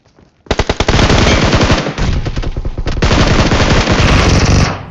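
Loud, close automatic gunfire in the video game BGMI, starting with a few single shots and then becoming a sustained rapid burst of machine-gun fire with brief gaps, lasting nearly five seconds without speech.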